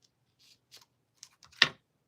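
Scissors cut craft material in a few sparse, quiet snips at close range, with the last snip the loudest. No one talks.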